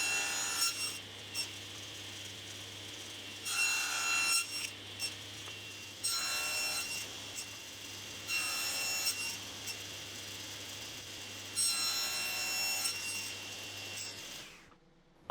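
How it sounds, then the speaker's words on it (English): Wooden keepsake box sides being mitred, with repeated back-and-forth sawing or rasping strokes in separate bursts over a faint steady hum, close and moderately quiet, with no voices. "Now I'll mitre them, taking off just enough material without cutting into the faces"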